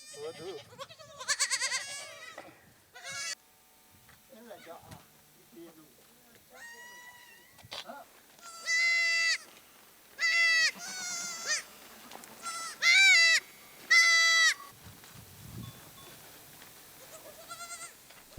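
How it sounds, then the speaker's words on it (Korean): About ten young goat kids in a Himalayan mountain home bleat in a string of separate, wavering cries, some loud and close, others softer, spread over quiet pauses. "올해 새로 식구가 된 새끼 염소가 10여 마리."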